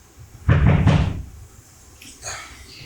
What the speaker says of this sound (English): 3 more louder knocks.